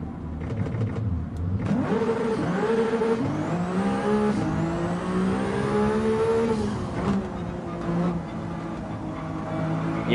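A race car engine in Gran Turismo 7 revs loudly and continuously as the car runs a circuit past curbs and walls, its pitch climbing and falling through gear changes, without talk over it.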